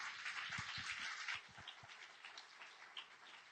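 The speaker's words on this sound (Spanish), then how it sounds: "Un aplauso para Él, por favor" Applause from a church congregation during a sermon, a steady wash of clapping throughout at moderate volume with no voices over it.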